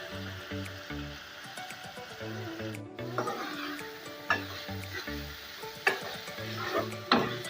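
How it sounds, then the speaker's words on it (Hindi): Steady sizzling of minced meat (keema) browning in a pan, with occasional scraping stirs and clinks over a continuous crackle. "कीमे को हम अच्छी तरह से इसके अंदर ब्राउन करेंगे"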